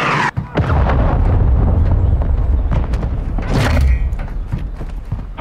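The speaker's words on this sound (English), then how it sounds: "Friendly cruise missile approaching target." A cruise missile strike in Modern Warfare 2 lands as a loud, rumbling blast, followed by scattered pops and booms through a few seconds of game noise.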